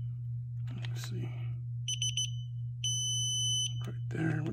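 A digital torque wrench gives short stuttering beeps and then a longer sustained tone as it nears its set torque, sounding clear and close over a constant low hum.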